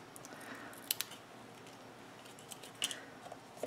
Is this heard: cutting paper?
yes